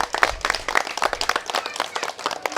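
A crowd claps for the Jadavpur Ganesh puja committee at an award event, dense steady applause with sharp individual claps, lively and close throughout.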